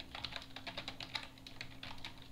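Fingers type on a computer keyboard, a quick, irregular run of light clicking keystrokes close to the microphone over a soft, low hum.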